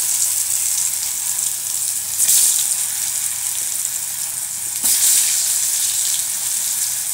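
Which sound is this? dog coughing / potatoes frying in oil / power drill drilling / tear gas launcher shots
potatoes frying in oil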